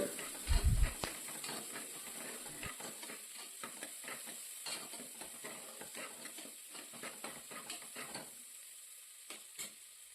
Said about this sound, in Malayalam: സവാള അരിഞ്ഞതും കുറച്ച് ഉപ്പും കൂടെ ചേർത്ത് വഴറ്റി കൊടുക്കാം